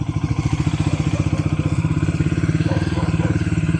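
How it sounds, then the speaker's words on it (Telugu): A motorcycle engine idles during warm-up with a steady, rapid putter, the rhythmic chugging holding an even pace throughout with no revving. "ఒక 5 minutes వార్మప్ చేద్దాం బైక్ని."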